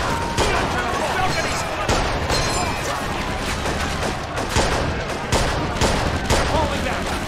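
Rapid gunfire rattles through a battle in an old war video game, with sustained machine-gun bursts and sharp single shots filling the whole stretch, loud and close, under shouting voices.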